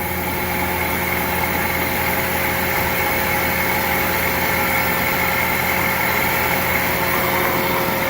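A Union BFT105 boring mill spindle running steadily at 2,500 RPM, a loud constant mechanical whine and hum with fixed tones and no variation, heard alone.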